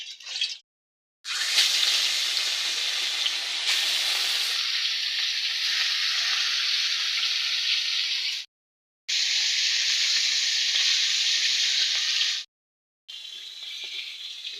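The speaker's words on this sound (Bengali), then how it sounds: "যেহেতু ছোট ছোট মাছ, তাই বেশি কড়া করে ভাজবো না, একটু নরম নরম করেই ভাজবো" Small fish fry gently in hot oil with a steady, close sizzle that cuts out into brief silences and resumes, a softer fry rather than a hard crisping one.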